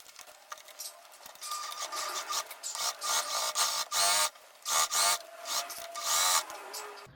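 A sewing machine topstitches a dress seam in uneven bursts of rapid, raspy stitching, each run starting and stopping sharply, close and fairly quiet with no voices.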